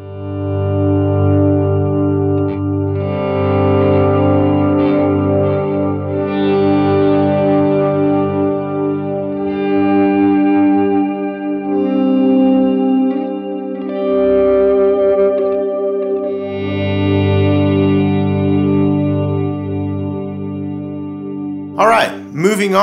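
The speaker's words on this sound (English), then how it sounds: "I'm just using a bunch of reverb and delay, pretty much turn them all to your biggest settings, and it sounds like this." Electric guitar chords are drenched in heavy reverb and delay, ringing out in long, loud washes that swell and overlap for over twenty seconds before a final strum.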